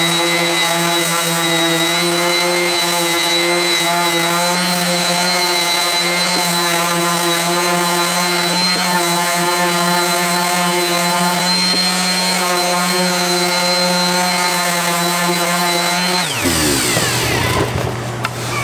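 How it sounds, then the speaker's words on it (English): An orbital sander runs steadily on a wooden Telecaster-style guitar body, a loud, close, continuous whirring hum with a sanding hiss that cuts off abruptly near the end. "then I'll smooth the whole thing out with the orbital sander"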